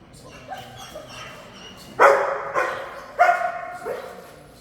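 A dog barks in short, sharp bursts, about four loud barks close by after some fainter yips, with no talk.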